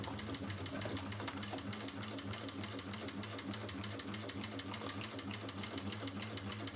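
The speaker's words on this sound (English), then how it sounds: "now I'm gonna go sew up a seam. I'm gonna open this up. I'm gonna sew right up the center." Sewing machine stitching a seam straight up the center of fabric, a steady fast mechanical whir with even stitch chatter, continuous and fairly faint throughout.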